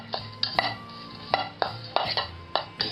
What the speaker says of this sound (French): Donc ici on mélange un petit peu afin de lier